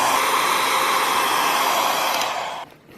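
Hair dryer blowing steadily on a BMW E70 climate control part, a loud close whooshing roar that holds for a few seconds before cutting off at the end.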